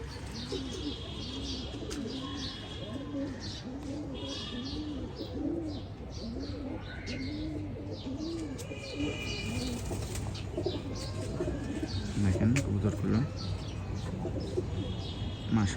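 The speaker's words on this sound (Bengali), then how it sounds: "তো এই কবুতরটা দেখেন খুবই সুন্দর কবুতর" Ferozpuri pigeons in a collection coo in a steady string of low, rounded calls, with softer chirps and occasional wing flutters around them, loudest toward the end.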